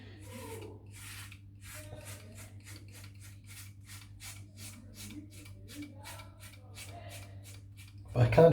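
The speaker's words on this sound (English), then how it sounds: "Just feels like it's sort of scraping over the hairs a little bit more." A Leaf Razor shaving seven days of stubble from a head, heard as a steady run of short rasping scrapes in even strokes, close and clear over a low hum, with a louder rustle at the end.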